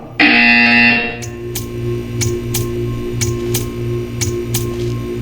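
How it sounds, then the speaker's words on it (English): In Portal 2, a loud harsh buzzer sounds once for about a second, then gives way to a steady ticking with a low hum underneath. "You will hear a buzzer."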